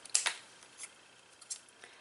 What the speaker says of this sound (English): Then I'm just going to take my scissors and I'm going to cut close to the word that I stamped